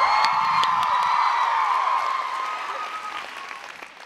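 Applause from a college commencement audience, a dense wash of clapping with a few cheers and whoops, loud at first and slowly fading away.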